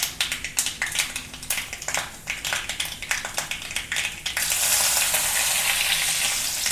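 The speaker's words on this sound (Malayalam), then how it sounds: "കടുകിട്ടു, പൊട്ടി. ഇനി കരിവേപ്പില ഇടുവാണേ." Mustard seeds pop in hot oil as a quick run of sharp crackles. Curry leaves then drop in, and the sound turns into a sudden, steady, loud hiss of spluttering. No one talks.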